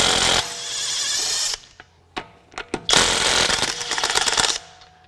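A Kobalt 24-volt brushless mid torque impact wrench hammers on lug nuts in two loud, rattling bursts, with a few sharp clicks and knocks in the gap between them.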